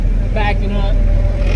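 A VQ-swapped drift car idling and creeping forward onto a weighing scale, a loud, steady low engine rumble up close, with someone speaking briefly over it.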